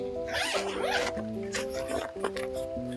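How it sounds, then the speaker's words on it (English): A zipper on a carrier bag being pulled closed in several quick, close, raspy strokes, with brief pauses between pulls. "Let's zip it up."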